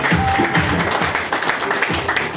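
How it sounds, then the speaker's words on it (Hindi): Listeners at a Hindi New Year motivational program clap in a loud, close burst, the many hands merging into a thick, continuous patter that keeps its level to the end. "इनकी वजह से इनके लिए भी एक जोरदार ताली।"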